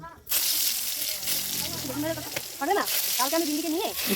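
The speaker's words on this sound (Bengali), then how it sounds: "বেগুন ভাজা দেবো" Eggplant slices fry in oil on a wood-fired stove, giving a loud, continuous sizzle with occasional stirring, while a person talks over it.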